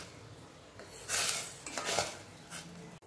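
A spoon stirs boiling water in a cooking pot while making chakli dough, with metallic scrapes and clatter in a few loud bursts over a low bubbling background.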